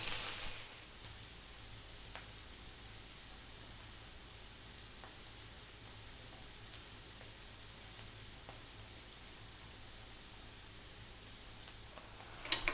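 Halloumi cheese cooks in a hot pan with a soft, even, hissing sizzle that stays faint and steady, ending with a brief clatter.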